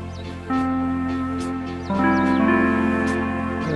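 A keyboard sustains a held tone, then a second note slides in from a half step below and rises into a fuller chord, steady and close, with quick faint whistle-like glides above it.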